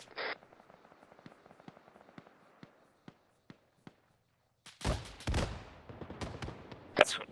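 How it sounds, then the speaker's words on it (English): A vehicle's coaxial machine gun fires during a base defence training exercise. A run of sharp, evenly spaced single shots at a distance gives way to louder, denser bursts of fire near the end. "It's using its coaxial against us right now."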